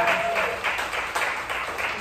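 A small comedy club crowd at Moose McGuire's applauding comedian Paddy Mack, brisk, close clapping with a few voices mixed in, holding steady throughout.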